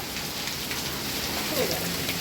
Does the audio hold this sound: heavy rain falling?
yes